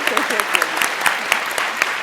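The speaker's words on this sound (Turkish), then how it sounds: "Zeynep Hanım onu Tuğba Hanım'ı alkışlayalım." Continuous clapping from a television game show studio audience in Turkey, an even, dense wash of many hands with scattered sharper claps standing out, sustained across the whole stretch.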